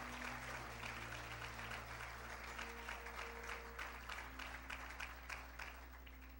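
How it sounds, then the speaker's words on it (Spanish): A church congregation breaks into applause, a dense, sustained clatter of many hands clapping over a low steady hum and a held organ-like tone. "¿Quién le da un aplauso a Dios por eso?"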